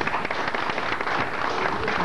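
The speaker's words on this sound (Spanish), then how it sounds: "Un aplauso para Pepito" Studio audience applauding on a Creole music radio or TV show, a dense steady wash of clapping filling the short stretch without pause.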